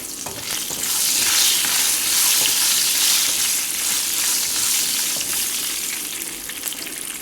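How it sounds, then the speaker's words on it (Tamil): Dried vathal berries fry in hot oil in a pan, giving a loud, steady close sizzle with the scraping and swishing of stirring running continuously throughout. "இந்த வத்தலை வந்து நல்லா எண்ணெயில் வந்து நல்லா ஃப்ரை பண்ணிக்கணும்"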